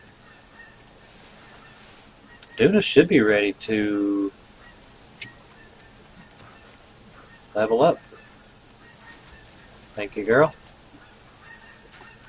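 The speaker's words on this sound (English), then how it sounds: "Here's some geese coming that way." Geese honk in a hunting video game, set in a field during a pheasant hunt: three separate bursts of loud nasal honking, each a second or so long, with spoken talk around them.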